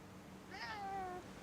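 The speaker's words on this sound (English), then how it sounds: "Oh, kitty keeps asking for your attention." A cat meows once for attention, a single rising then falling meow lasting about half a second, faint and somewhat distant in a quiet indoor room.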